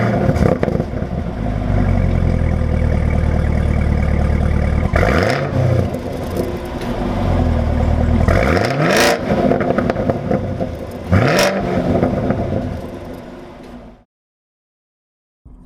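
A 2018 Chevrolet Camaro ZL1 supercharged V8 accelerating hard on the road, loud sustained engine roar with rising revs and several gear changes, then cutting off abruptly near the end.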